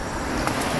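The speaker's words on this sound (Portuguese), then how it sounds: "alguns carros passando aqui, poucos" Traffic on a quiet street at night gives a steady broad road rumble, moderately loud with no distinct pass-by peak, and no voices.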